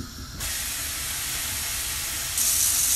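Water poured into a hot pot of couscous vegetables hisses and sizzles in a loud, steady steam rush that starts abruptly and swells brighter near the end, close up with no talk.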